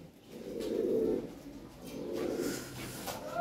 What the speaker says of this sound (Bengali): ব্রিডিং করতেছে, ডিম দিয়ে দিবে কবুতর।